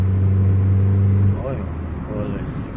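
A 1997 Honda Civic LXi engine idles steadily with a loud, low hum, then the pitch drops. Softer, rising engine tones follow as the throttle is blipped.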